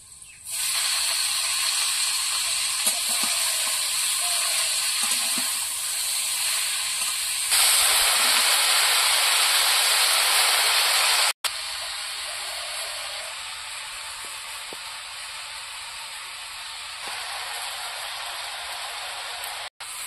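Garlic, onion and water spinach fry in a pan with a steady, loud hiss that swells brighter partway through as fresh greens hit the oil, then settles into a continuous sizzle with a couple of brief breaks.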